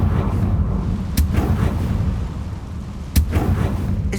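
A Confringo fire-blast spell in Hogwarts Legacy bursts with two sharp, loud booms over a constant rumbling game ambience, the second blast louder and followed by a short crackling tail.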